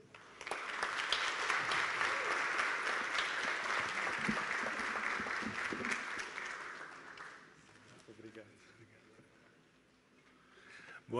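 An audience at a parents' school congress applauds to welcome a speaker, a loud sustained round of clapping for about seven seconds that then fades to scattered claps and room murmur.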